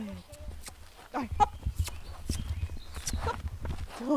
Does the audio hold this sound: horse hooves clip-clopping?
yes